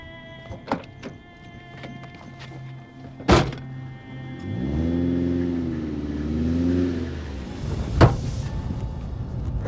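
A car door thunks shut, then an engine starts and revs up as the car pulls away, rising and then fading. Scattered knocks and another sharp thud follow.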